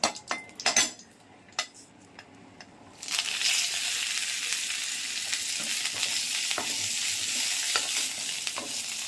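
Neem leaves and a few dried red chillies hit hot oil in a Bengali home kitchen. A clatter of utensils comes first, then a loud, steady sizzle that holds to the end.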